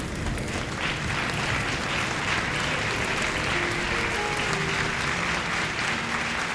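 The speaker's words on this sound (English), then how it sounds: "Give a big round of applause for Time Check" Steady applause from an audience fills the room after a comedic performance, a thick, even roar of clapping that holds at the same level throughout, while a faint voice or two murmurs underneath.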